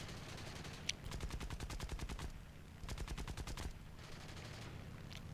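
An A6M3 Hamp fighter fires its machine guns in War Thunder, two rapid sustained bursts of rattling gunfire, each lasting over a second, set against the steady drone of the plane's engine.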